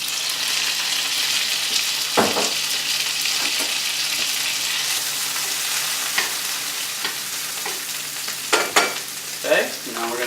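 Roasted peppers and garlic fry in olive oil in a pan with a steady broad sizzle, while a few sharp clatters and scraping stirs rise above it near the end.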